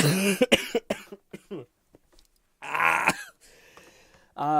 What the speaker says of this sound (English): I get like a reflex to cough.